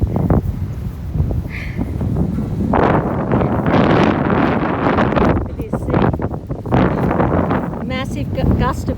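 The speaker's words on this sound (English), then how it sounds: "Massive gust of wind." Strong gusts of wind batter the microphone outdoors on a windy day, producing loud low rumbling buffets that swell and drop across the clip, with no clear speech.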